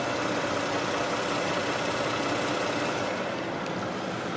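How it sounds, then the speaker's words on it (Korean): An imported sedan's engine idles steadily and evenly, a smooth continuous hum at constant loudness with no voices. "엔진 소음 먼저 들려드리면은"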